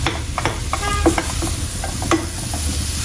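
Mushrooms sauté in a hot pan with a constant close sizzle, broken by a few clicks and scrapes from stirring, with no voices.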